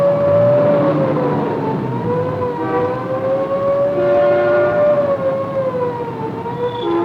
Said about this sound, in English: Somewhere out there is an ambulance with a mission.